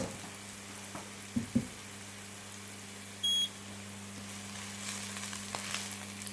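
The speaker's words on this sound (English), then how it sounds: "So be patient and wait for the onions to caramelize." Onions frying in a hot pan for stir-fried Singapore beef noodles, a quiet steady sizzle with a low hum, a couple of small knocks and a short electronic beep partway through.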